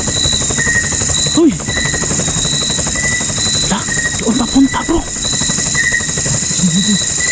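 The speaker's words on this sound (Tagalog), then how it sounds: "Hala, ang helicopter bro." A helicopter flying overhead makes a loud, continuous droning rotor throb that holds steady throughout, while people speak briefly over it.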